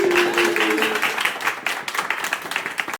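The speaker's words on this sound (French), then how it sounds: "un bon accueil à Anissa et applaudissements, s'il vous plaît" A crowd applauding, dense clapping that thins into scattered, uneven claps, with a brief tonal sound near the start.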